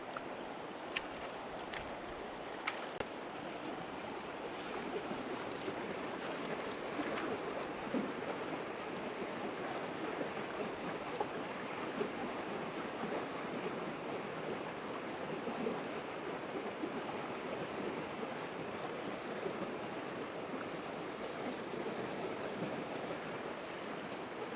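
A mountain river rushes through a canyon in the San Gabriel Mountains. It makes a steady, even roar of flowing water, faint and somewhat distant, with no voices.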